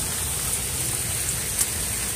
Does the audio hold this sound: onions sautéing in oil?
no